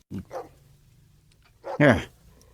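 A dog barks twice, a short yip followed by a louder, fuller bark about a second and a half later, fairly close, with quiet background between.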